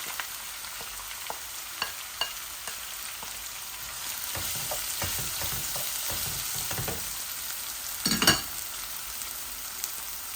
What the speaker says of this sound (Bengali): এই যে ইনো 2টা পেঁয়াজ মিডিয়াম সাইজের আমি কাটিছি দিলাই